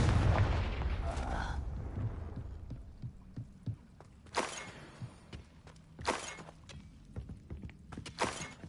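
Confringo blasting spells exploding in the Hogwarts Legacy video game, a heavy boom at the start followed by several sharp, punchy bursts and crackles spaced a second or two apart amid combat noise.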